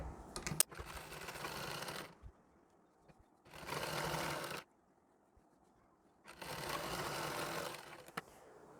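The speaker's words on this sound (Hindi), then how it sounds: "अब यहाँ पर भी हमें बॉर्डर पर एक बारीक टाँका लेकर सिलाई लगा लेनी है।" Sewing machine running a fine stitch along the border of a nauvari saree, heard as three separate steady whirring runs with near-silent gaps between them, close and fairly quiet, with no talk.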